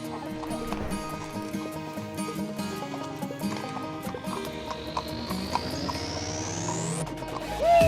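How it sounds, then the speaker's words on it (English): Horses clip-clopping during a pony riding lesson for two boys in Southlands, Vancouver, with steady hoof beats under music and a brief whinny near the end. "get the boys ready for pony riding lessons in Southlands"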